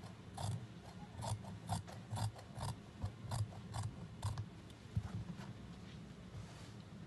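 Scissors snipping through dress fabric while cutting a cold-shoulder dress, a steady series of close, soft crunching snips at a regular pace, fairly quiet, with no talking over it.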